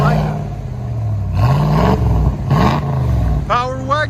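A Ram Power Wagon's 6.4L Hemi V8 with a muffler delete barks through a few loud revving bursts over a rumbling idle, close by, with a voice briefly audible at the end.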